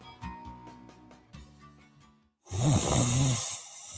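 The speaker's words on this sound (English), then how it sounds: "many problems that can keep you up at night, like snoring" In a mattress advertisement, a loud, rough snore rumbles from about halfway through, following a quieter stretch of music-like tones with no one speaking.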